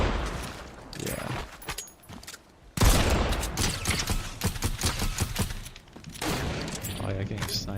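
Bursts of rapid gunfire and mechanical clatter from a Fortnite match, loud and close, with a player talking over the shots.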